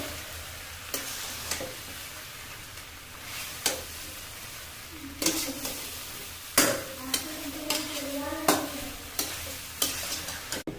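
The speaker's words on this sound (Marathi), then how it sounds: "मुरमुरे ते टाकायचे आहेत आता आपल्या या मिश्रणामध्ये तर आता चांगलं हे हलवूट घ्यायचं" A puffed rice mixture is stirred in a hot pan while making sushila, with close, intermittent spatula scrapes and clatter over a low frying sizzle, growing busier toward the end, with no speech.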